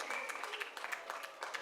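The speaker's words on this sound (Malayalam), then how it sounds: "നല്ല കയ്യടി. നിങ്ങളുടെ കയ്യടി വേണം." Audience applause for children at a church fancy dress show, a steady patter of many hands clapping at moderate distance, fairly soft, with faint voices underneath.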